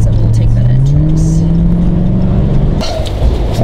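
Dodge Scat Pack sports car accelerating hard, its engine note climbing steadily in pitch, loud and close, with a voice talking over the roar near the end.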